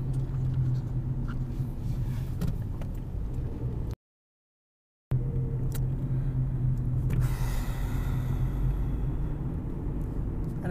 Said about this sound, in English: there is so much traffic